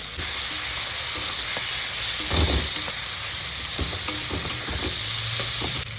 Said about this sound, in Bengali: ভাজা মাছটা দিয়ে দেবো।